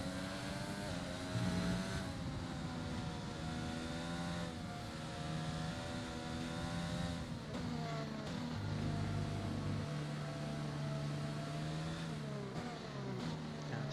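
A race car engine revs and shifts continuously in a sim racing game on a wet track, rising and falling whines with repeated short shifts, loud and close, with no talk.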